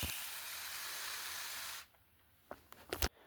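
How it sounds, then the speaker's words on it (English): Steady close hiss of a spray bottle misting water on plants in a lizard vivarium for nearly two seconds, then stopping, followed by a few soft clicks and taps. "I'll just let you listen to this spraying."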